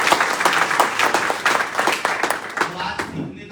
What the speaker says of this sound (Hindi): मिस्टर डॉक्टर अजय सर के लिए शानदार ताली